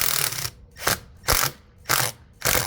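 A bigger screw driven into the aluminum wall track of a 2009 Forest River Cardinal RV, heard as five short, loud ratcheting bursts of whirring with brief pauses between them and no talking.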